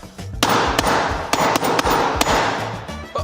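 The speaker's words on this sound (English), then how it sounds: "Should we do the hammer test?" A hammer strikes a hardened phone screen protector in a quick run of sharp metallic clangs, about eight hits at an uneven pace, loud and close, with no voices.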